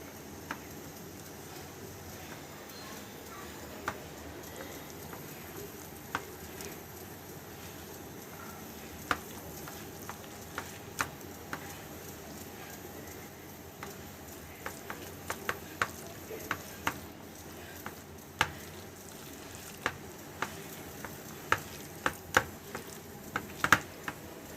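Spoon or spatula scraping and stirring a sweetened mixture being combined in a hot pan, with scattered sharp clicks and taps against the pan over a low steady sizzle, moderately quiet and close.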